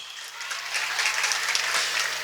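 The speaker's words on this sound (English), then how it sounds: "Keep clapping for him." An audience at a children's talent show applauds a performer, steady dense clapping swelling slightly and holding, moderately loud with a low steady hum underneath.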